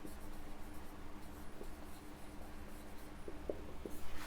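Pen or pencil scratches softly on paper while working a math problem, faint intermittent strokes with a few sharper taps over quiet background hiss.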